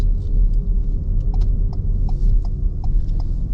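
A car pulls away on a driving test in Hendon, its engine making a steady low rumble close by, with a light, regular ticking over the top.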